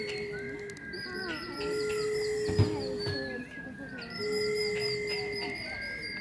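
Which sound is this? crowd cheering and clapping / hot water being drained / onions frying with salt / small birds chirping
small birds chirping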